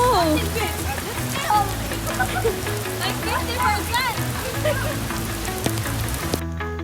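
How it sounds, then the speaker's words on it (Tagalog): Steady rain falling on surfaces outdoors in Binondo, a continuous wash of patter with voices talking and children's calls over it, cutting off abruptly at the end. "It's been raining."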